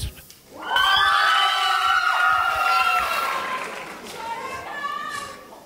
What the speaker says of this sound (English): can I have a round of applause for Nazim Mohammed